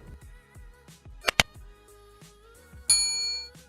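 A notification bell sound effect rings a sharp metallic ding, followed later by a brighter sustained chime, alone over soft background tones.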